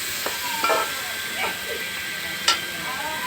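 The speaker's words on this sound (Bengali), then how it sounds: "এই যে আমি সিদ্ধ করা চাউমিনটা দিয়ে দিচ্ছি। দিয়ে ভালো মতন নাড়াচাড়া করে এই যে ভালো মতন আমি মিক্স করে নিচ্ছি।" Boiled chow mein noodles being stir-fried in a pan with very little oil, giving a steady soft sizzle with a few sharp scraping and tossing clatters as they are mixed.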